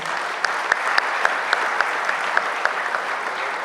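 Audience applause at a World Tourism Day scholarship presentation: a steady, moderately loud patter of many hands, with a few sharp, close claps standing out at irregular intervals.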